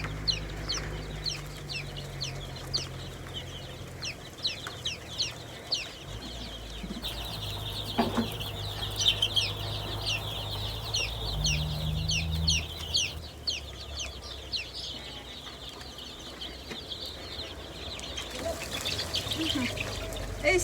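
Domestic chickens in a coop cluck and chirp in frequent quick bursts, with a low hum running beneath and some faint scraping and movement nearby.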